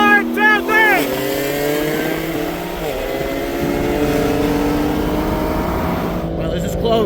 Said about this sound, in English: we're going to do a 60 roll